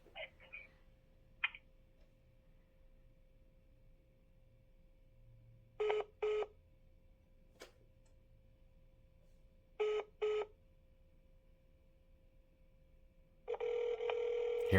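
During a call transfer, a telephone line plays a steady hum with short clicks, then paired ringback tones repeat twice and a louder tone burst comes near the end.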